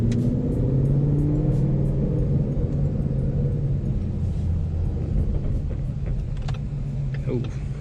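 A race car being driven to bring its transmission up to operating temperature, with a steady low engine rumble and drivetrain drone that holds throughout at close range, faint mechanical whines rising near the end.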